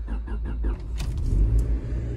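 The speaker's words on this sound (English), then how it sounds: "Let's make sure our car is in neutral. And let's start it." A Honda Civic engine cranks and fires up while the car sits in neutral, with a few rhythmic starter pulses giving way to a steady close idle rumble.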